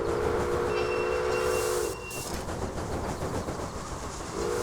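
A steam train in the railroad game Railway Empire rolls into the Winnemucca station with a steady hiss and rumble, while two long, close steam-whistle blasts sound over it. Nobody speaks.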